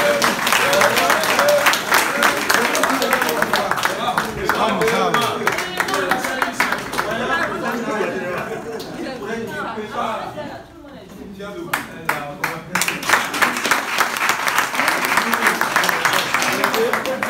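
Audience applause and clapping fill a hall for an elderly man called Moussa during a training session, loud and sustained, dipping briefly midway before swelling again, with crowd chatter mixed in.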